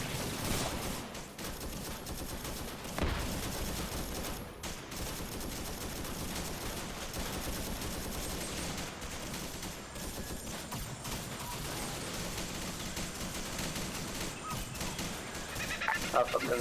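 Arma 3 gunfire crackles almost continuously during a Vietnam-era camp defense, dense volleys and sharp bangs filling the scene while voices talk underneath.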